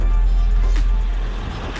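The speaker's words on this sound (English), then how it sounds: "All right, let's fire it up. Starts right up, runs beautifully." A 1982 Datsun 720 4x4 pickup, freshly tuned with new plug wires, cap and rotor, idles steadily close by, giving a loud, even low rumble with a faint higher whine on top.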